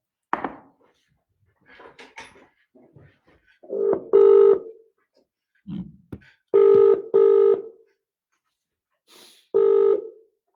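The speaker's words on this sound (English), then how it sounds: "Right, I'm going to get Claudia on the phone" A phone number is dialed on a telephone, a series of separate beeping tones in uneven rhythm, clear and close, with brief soft noises between them.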